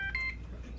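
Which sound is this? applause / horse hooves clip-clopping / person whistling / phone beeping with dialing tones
phone beeping with dialing tones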